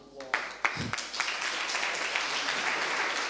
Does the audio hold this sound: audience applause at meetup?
yes